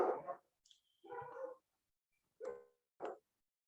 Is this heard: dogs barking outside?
yes